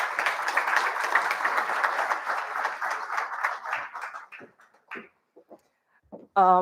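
Audience at a conference panel session applauds steadily for several seconds, then the clapping thins out to a few scattered claps before fading, followed by a brief voice.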